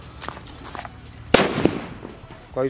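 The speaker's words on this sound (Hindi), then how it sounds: "अब जलाते हैं इस वाले एटम बम को यहाँ पर देखते हैं ये क्या हाल करता है इस होल का" An atom bomb firecracker goes off inside a hole with one sharp, loud blast at mid-clip, followed by a short crackling tail and a second smaller pop, with faint rustling before and after.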